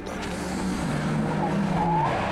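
A 660 HP Audi Quattro S1 Group B rally car brakes and slides into a corner, its engine roaring loudly and steadily with tire scrub throughout.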